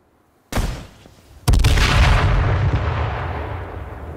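A grenade goes off in the battle royale game H1Z1. A sharp crack comes first, then a heavy boom a second later whose deep roar lingers and slowly fades for several seconds, with no talking.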